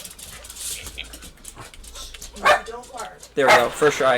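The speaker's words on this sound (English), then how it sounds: "I'm sorry about the dogs!" Dogs whimper, pant and let out a few barks indoors, close by and intermittent, with louder yelps near the end while someone talks over them during a game session.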